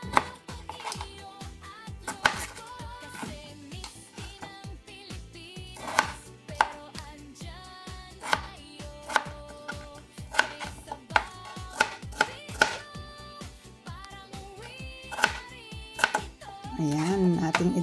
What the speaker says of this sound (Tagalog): Nating hiwain ang ating patatas.